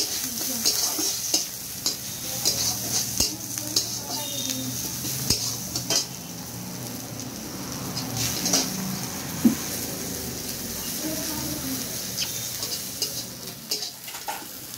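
Chopped onion and green chillies fry in a pan while a utensil stirs and scrapes against the metal, giving irregular clinks and knocks over a continuous close sizzle.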